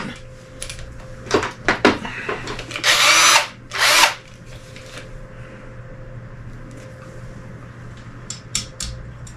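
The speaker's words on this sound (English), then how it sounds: "I think I'm going to use my drill on this one." A power drill assembles an FVZZIN knee scooter, giving two loud whirring bursts close by amid scattered clicks and rattles of parts being handled, then quieter tapping.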